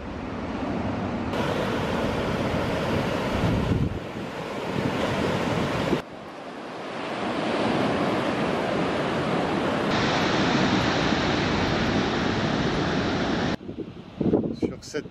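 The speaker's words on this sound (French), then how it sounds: "Et voilà la plage. Et l'océan Indien." Surf of the Indian Ocean washing onto a beach in Tasmania, a continuous broad rush with wind buffeting the microphone and sudden shifts in level.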